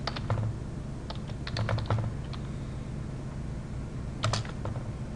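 Keystrokes on a computer keyboard come in short irregular bursts, with clusters of clicks near the start and another flurry toward the end, steady and close over a low room hum.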